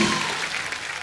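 Audience applause for mimicry artist Suresh at a comedy stage show, a dense burst of clapping from a crowd that starts strong and holds steady through a short moment.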